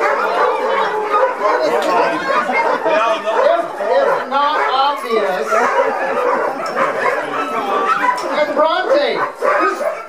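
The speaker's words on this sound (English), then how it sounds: "neighbor's dogs." A neighbor's dogs bark, yip and whimper together in a busy, continuous chorus at moderate distance, with overlapping voices throughout.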